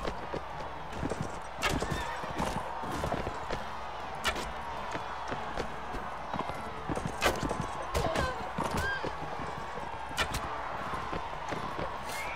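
Horse hooves clatter in a quick, steady galloping rhythm during a tournament match in Mount & Blade: Warband, with a horse archer riding. The hoofbeats sound fairly close, over a bed of crowd and game ambience.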